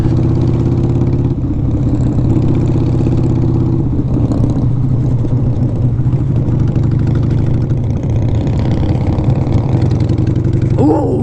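Harley-Davidson FXR motorcycle with T-bar handlebars, engine running steadily throughout while riding, a continuous close rumble with slight rises in revs and no speech.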